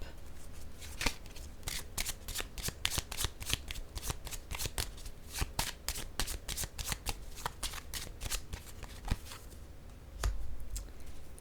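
Playing cards riffled and laid down on a table, a dense run of crisp, close flicks and snaps at an irregular quick pace, fairly quiet, with a short pause near the end.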